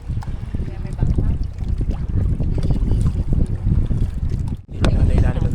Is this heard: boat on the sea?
yes